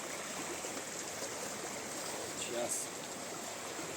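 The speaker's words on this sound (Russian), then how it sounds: "Вот горная речка наша." A mountain river runs through a forest with a soft, steady rushing murmur at a moderate distance, while someone speaks briefly over it.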